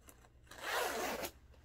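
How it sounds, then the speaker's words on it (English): A zipper on a jacket's slash pocket is pulled open in one quick, close rasping stroke, preceded by faint fabric rustles. "2 slash pockets that zip"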